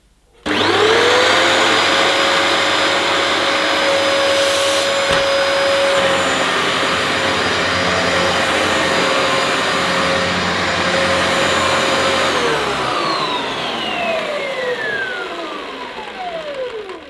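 A Dyson DC28 upright vacuum cleaner starts up with a rising whine, runs loud and steady with a high motor tone, then spins down near the end.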